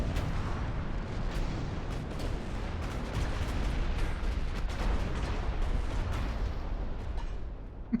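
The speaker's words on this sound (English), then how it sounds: "Lots of torpedoes there. Yeah, that was a few torpedo hits." Naval battle in the Ultimate Admiral: Dreadnoughts video game, with dense, continuous booming gunfire and torpedo-hit explosions that overlap into a loud, rolling barrage.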